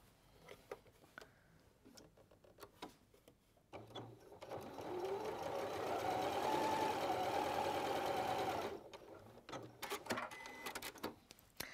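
Sewing machine stitching quilt pieces, running steadily for about five seconds with a close mechanical whir, framed by softer handling clicks and rustles before and after.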